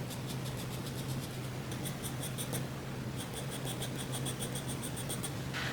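Graphite pencil shading across paper on a classical drapery drawing, a steady soft scratchy rasp in bursts of repeated strokes with brief pauses, close up and fairly quiet over a low constant hum.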